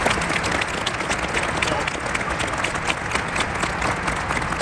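Sustained audience applause fills the room at a gathering honoring the 747 program, dense steady clapping with a few cheers, loud and continuous throughout with no break.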